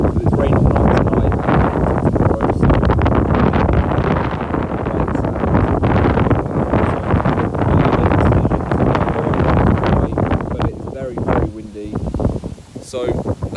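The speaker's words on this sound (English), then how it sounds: "it is so windy" Loud gusting wind by a lake roars and thumps against the microphone, with a person talking underneath through much of it before the wind eases near the end.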